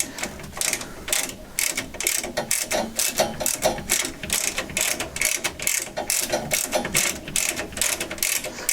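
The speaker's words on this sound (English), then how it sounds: "Remember to pull the adjustment knob out in order to disengage the ratchet mechanism." Nerrad adjustable ratchet tube cutter clicking steadily as its ratchet mechanism is worked, a dense run of close, sharp mechanical ticks with no voices.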